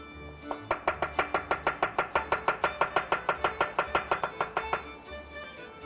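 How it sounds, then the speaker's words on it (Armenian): Garlic crushed together with chopped greens in a kitchen while preparing a mushroom dish: a fast, even series of about two dozen close, crisp strikes, steady in rhythm before stopping. "տրորում ենք սխտորը կանաչիների հետ"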